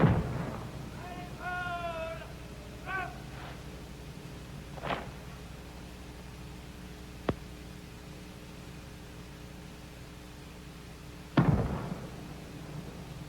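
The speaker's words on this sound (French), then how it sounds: "c'est une salve de 21 coups de canon tirés par une troupe d'artillerie du 2e régiment du Royal Canadian Horse Artillery." Cannon salute of 21 rounds fired by a troop of the 2nd Regiment, Royal Canadian Horse Artillery, at the Expo 67 opening ceremony: a few heavy, widely spaced booms ring out over a low crowd murmur, with brief tonal sounds early on.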